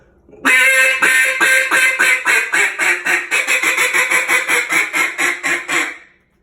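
A duck call blown in a contest-style hen greeting: a rapid series of loud, raspy quacks, about twenty in quick rhythm, a big hen starting strong then turning into a fast, short, choppy hen.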